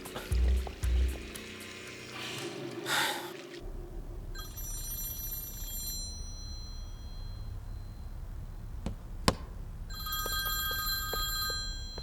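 A telephone rings in a hotel room, repeated electronic ringing bursts at moderate level after some rustling and a brief clatter, with a quiet room hum underneath.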